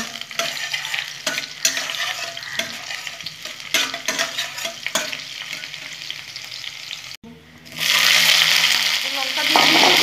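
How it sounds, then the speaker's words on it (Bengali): Crushed garlic sizzles in hot oil in a pan while being stirred, a steady close frying hiss with scraping strokes that swells louder near the end. "একটু ভাজা ভাজা করে নেবো।"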